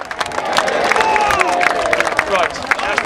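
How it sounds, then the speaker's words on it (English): Crowd cheering and applauding at a Bosworth battle reenactment show, with a steady wash of claps and scattered cheers and whistles from a large outdoor audience, with an announcer's voice over the top. "You've been great. Give yourselves a cheer!"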